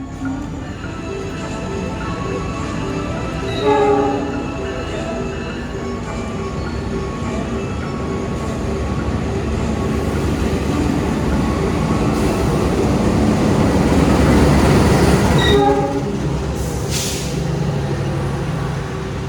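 A Muria passenger train pulls into an Indonesian station, a steady rumble of wheels and carriages building and swelling toward the middle, with brief brake hiss and a horn-like tone near the end, heard alone without talk.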